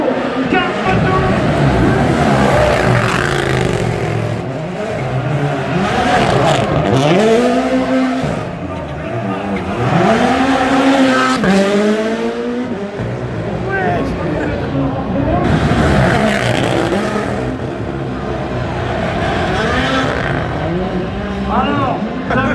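Sébastien Ogier's rally car passes repeatedly on celebratory laps, its engine rising and falling as it sweeps by, loud and near, with people talking throughout.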